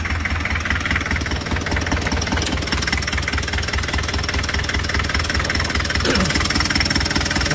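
The diesel engine of a 1981 Daihatsu Taft F50 4x4 idles with a close, steady, rhythmic low knocking chug that holds loud and even throughout.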